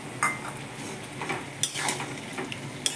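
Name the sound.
lightly frying and stirring food in a pan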